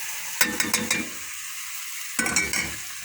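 Purslane is added to a hot pan and sautéed, two bursts of sizzling and stirring scrapes with utensil clinks, separated by a quieter pause, close by and with no voices.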